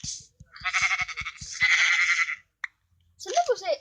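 Sheep in the Minecraft video game giving a series of short bleats, followed by a brief click and one more bleat, with speech-like chatter around them.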